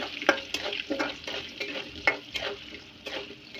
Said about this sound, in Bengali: সেই জন্য আমি একটু আলুগুলো ভাজে নিচ্ছি